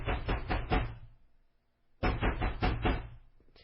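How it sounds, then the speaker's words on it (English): Loud banging on a condo door: two bursts of heavy, rapid fist knocks, several blows each, separated by a short pause, close and forceful with no talking. "He began banging loudly on the door at 6:40 p.m."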